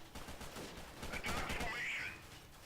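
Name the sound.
gunfire exchange in the video game Freeman Guerrilla Warfare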